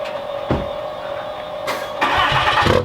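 A truck engine starting beside a new 2021 Grand Design Reflection 31MB RV, with a steady tone, a brief crank burst, then a louder rising turnover and rumble toward the end.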